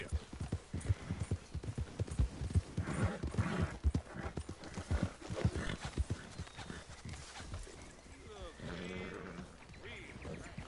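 A horse in the video game Red Dead Redemption 2 clip-clops along in a steady run of hoofbeats, with voices partly over it and a close whinny near the end.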